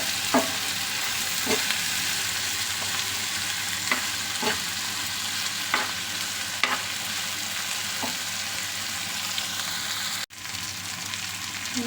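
Tomatoes with salt sizzle steadily in a pan for an okra stir fry, with a spatula scraping at regular intervals over a constant frying hiss, close and without speech.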